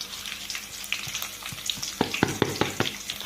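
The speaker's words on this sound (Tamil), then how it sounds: "சீரகம் போட்டோம், மிளகாய் போடுறோம்." Cumin seeds and chillies sizzle in hot oil for lemon rice, with a steady crackle that breaks into a burst of sharp pops and spatters partway through, close and fairly loud, no voices.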